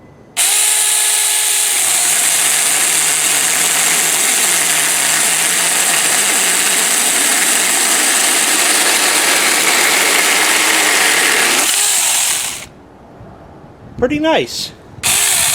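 A SAKER 4-inch mini electric chainsaw cuts through a branch with a loud, steady whining buzz for about twelve seconds, close up, then stops, followed by rustling and someone briefly speaking.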